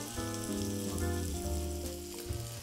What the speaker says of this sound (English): So we're just going to put in our pork chops. Just cook them a couple at a time.